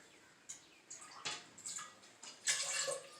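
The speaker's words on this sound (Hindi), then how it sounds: "अब इसके बाद मैं पानी ऐड कर रहा हूँ।" Water poured into a pressure cooker holding beef and spices for yakhni pulao, a faint splashing and trickling in several short bursts.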